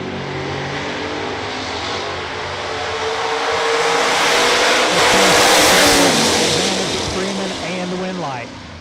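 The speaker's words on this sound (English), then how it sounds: "The Randy Anderson R&E Auto Nova, dialed 696 against Tim Douglas from Withville, Virginia." Drag racing cars launching side by side, a Nova against a Camaro, at a mile track, their engines swelling to a loud roar and revving that peaks mid-clip, heard close with crowd-level din and an announcer faintly beneath.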